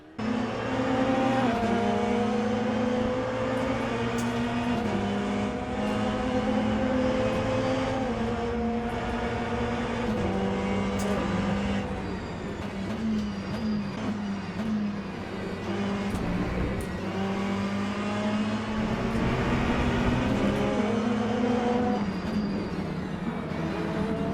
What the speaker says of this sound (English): the whine of the hypercars as you brake aggressively actually feels really cool